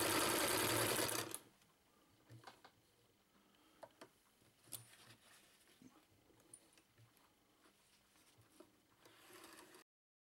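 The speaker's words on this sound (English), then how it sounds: "Then operate the machine relatively slowly. You can see the attachment flicking the fabric to the side every 6 stitches." Singer sewing machine fitted with a blind stitch attachment, starting with a brief loud motor run, then running slowly with soft ticking and pattering stitch sounds, faint and close.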